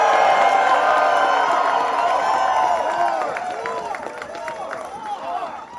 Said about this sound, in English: let's give them another round of applause for that work.